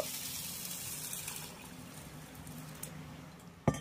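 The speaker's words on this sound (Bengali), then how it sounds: "এই ডাল আর চালগুলোকে খুব ভালো করে ধুয়ে নেব" Mung dal, chana dal and rice being washed in water in a kitchen: gentle steady sloshing and swishing close by, ending in a sharp splash near the end.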